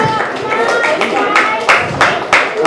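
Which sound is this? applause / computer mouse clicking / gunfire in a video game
applause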